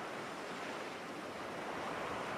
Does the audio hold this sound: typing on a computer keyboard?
no